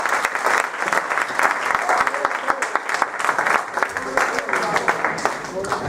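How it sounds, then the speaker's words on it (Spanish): Church congregation at a joint worship service breaking into sustained applause, dense clapping filling the room steadily throughout with some voices mixed in. "Den un aplauso, por favor."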